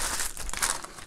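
Plastic bags being crumpled and crinkled up close during household tidying, a dense run of crackling rustles lasting about a second.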